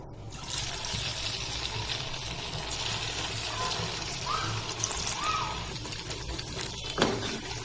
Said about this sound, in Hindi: तेल गरम हुआ, अभी हम फ्राई कर रहे हैं।